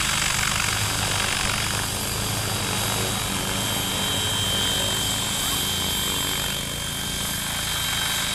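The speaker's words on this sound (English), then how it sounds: "And the helicopter stopped" Steady, loud whirring of a radio-controlled scale helicopter's rotor and motor, flying on a DJI Wookong-S controller, continuous and close throughout, with a slight dip in level near the end.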